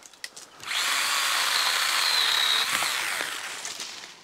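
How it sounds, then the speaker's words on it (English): A STIHL GTA 26 battery pruner revs up and cuts through a log, a loud high-pitched whine with chain rasp held for about three seconds before winding down, after a few faint knocks at the start. "I'm gonna go through a big part back here just for fun."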